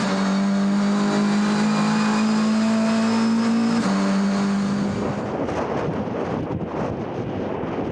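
GTC Series race cars at the East London circuit, a steady loud engine drone under heavy wind buffeting, the pitch holding then stepping down as a car passes and recedes into rushing noise.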